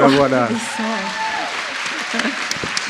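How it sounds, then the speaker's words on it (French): A conference audience at an international colloquium of Solidarité Femmes applauds the organizing team, the broadband clapping swelling under a speaking voice at the start and then continuing as a steady crowd sound. "on peut déjà saluer et puis peut-être applaudir toute l'équipe"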